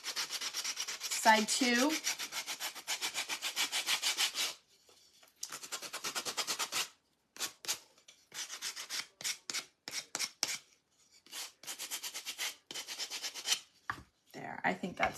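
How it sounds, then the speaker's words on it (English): Wood edges of a handmade chippy farmhouse snowman craft are sanded by hand in rapid, rhythmic back-and-forth rubbing strokes, close and fairly loud, broken by short pauses and a brief spoken remark. "Let's just sand the edges a little bit."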